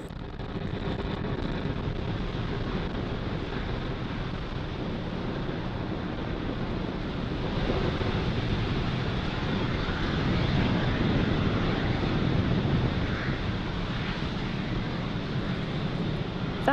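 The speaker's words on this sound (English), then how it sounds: "Falcon 9 has successfully lifted off with the SXM-8 satellite from Space Launch Complex 40" Falcon 9 rocket lifting off with the SXM-8 satellite from Space Launch Complex 40, a steady, dense broadband roar with wind-buffeted rumble that holds loud and unbroken throughout.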